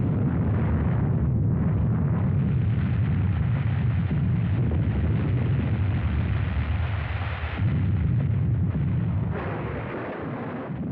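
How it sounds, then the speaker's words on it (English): Experimental atomic bomb test from July 1945, a massive sustained roar and rumble that holds heavy and loud for about nine seconds before easing slightly, with no voices present. "On July 16, 1945, an experimental bomb was detonated with results that were incredible even to those who had"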